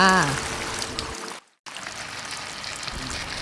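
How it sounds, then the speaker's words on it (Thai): Steady rain falls on a rainy day in rural Thailand, a continuous soft hiss that briefly cuts out for a moment partway through before resuming; a short tonal voice-like sound is heard at the very start. "ช่วงนี้ฝนตก"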